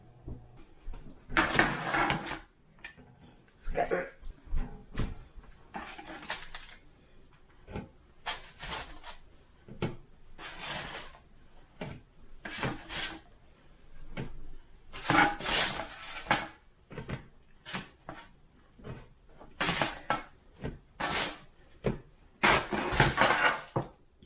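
Baked scones on a rack being taken out of an oven: a series of close clattering knocks and metallic clanks of rack and tray, irregular bursts separated by brief quiet gaps.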